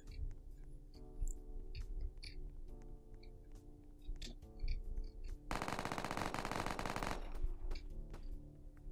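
Roblox gunfire, a few scattered light pops over a steady game music bed, then a dense, loud rapid-fire burst lasting about two seconds before the backing music carries on.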